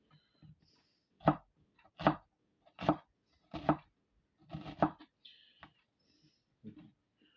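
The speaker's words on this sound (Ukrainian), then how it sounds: "кришимо їх дуже-дуже мілко" Onions being finely chopped with a knife on a board, a series of crisp, close, separate chopping thuds at an irregular pace, about eight strikes with brief pauses between them in an otherwise quiet room.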